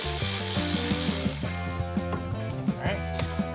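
A ratchet loosens a front suspension bolt on a Ford Pinto, producing a rapid run of evenly spaced clicks that slows into irregular ratcheting strokes, close and clear.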